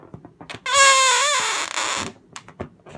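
A rubber balloon, not yet stretched, lets out a loud, high whining squeal as air is squeezed from its neck, one wavering tone lasting over a second, with softer breathy noises around it.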